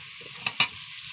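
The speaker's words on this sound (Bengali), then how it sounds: "তো এখন আমি এগুলা লাল লাল করে ভাজি করব" Vegetables fry and are stirred in a pan for a fish curry. A low sizzle runs underneath, broken by two sharp scraping clatters of stirring close by.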